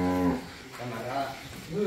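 A cow moos in a grassy pasture on a cattle farm: one low, close moo at the start, followed by someone talking.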